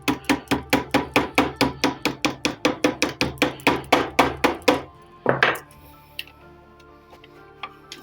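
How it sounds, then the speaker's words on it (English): Light hammering of a plank during first-stage planking of a San Felipe wooden ship model, a rapid, even series of about twenty close, crisp taps over five seconds, then a couple of isolated knocks and near quiet. "Now, slight hammering."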